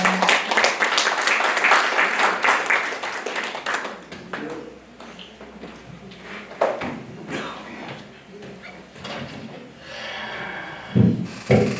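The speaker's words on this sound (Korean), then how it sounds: "동양정신연구회 김면기 회장님, 뜨거운 박수로 맞아주세요" An audience at an awards ceremony applauds to welcome a speaker, dense clapping for about four seconds that thins into scattered claps, shuffling and a few faint voices.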